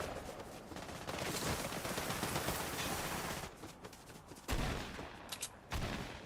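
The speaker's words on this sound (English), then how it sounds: "Nice shooting." Gunfire in the video game Fortnite: rapid bursts of shots, moderately loud, in fast clustered volleys with brief gaps, no speech.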